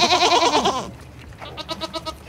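Goats at a local farm in Western Massachusetts bleat repeatedly, first in a loud overlapping burst and then in a string of quieter, separate calls close by.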